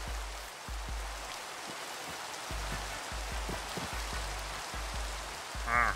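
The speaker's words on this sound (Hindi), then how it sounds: "बारिश स्टार्ट होती है।" Steady rain in the video game Minecraft: a continuous, even hiss of falling drops that holds at the same level throughout, with low rhythmic thumps running beneath it and no voices.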